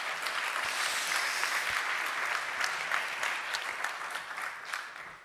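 Sustained applause from a conference audience for the panel speakers at a roundtable, dense steady clapping that holds for several seconds and fades slightly toward the end, with no voices over it.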